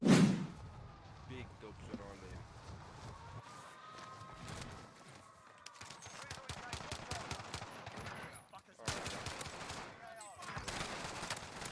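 Bullfrog submachine gun fire in the shooter game Warzone on Rebirth Island, rapid close bursts of automatic shots in several volleys, with footsteps and game effects between them and a voice talking over the action.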